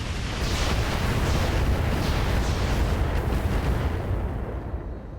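Continuous barrage of rocket fire from a light rocket carrier in the RogueTech mech game, dense overlapping launches and blasts rumbling loudly for several seconds before easing slightly at the end.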